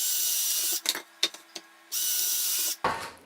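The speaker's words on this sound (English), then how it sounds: "I'm pre-drilling 2 holes here" A power drill pre-drills two holes through a greenhouse hoop-house frame, two loud sustained whirring bursts split by short clicks and handling knocks, ending in a brief rattling scrape, close up with no talk.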